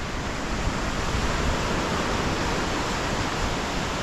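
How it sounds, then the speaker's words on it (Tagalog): Large sea waves at night make a continuous, loud, broadband wash of surf with no distinct breaks and no voices. "Malalaki pa ang alon."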